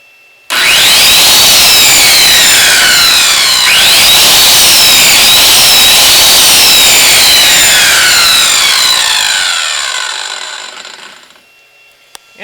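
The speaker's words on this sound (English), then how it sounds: "I have my 13 amp circular saw. And I'm going to see what happens when I power this up." A 13 amp circular saw running off a Cobra 2500 watt power inverter starts up with a loud high-pitched whine, runs steadily for about ten seconds and then winds down as the motor coasts to a stop.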